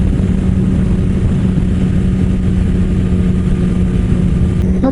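Steady roaring wind noise inside a motorcycle helmet at 100 km/h, a loud constant low rumble and hiss with no breaks and no talk.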